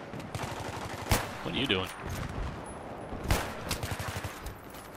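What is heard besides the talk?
gunfire in the video game Battlefield 3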